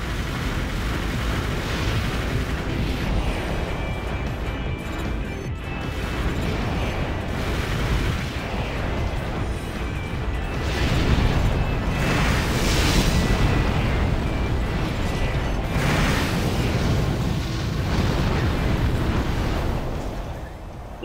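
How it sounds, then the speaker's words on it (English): A swarm of missiles blasts down a tunnel in Armored Core: for Answer, giving a loud, continuous roar of overlapping explosions that swells and rumbles for the whole stretch without letup. "Nothing like a swarm of missiles down a tunnel to take care of your enemies."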